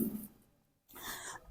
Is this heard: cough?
yes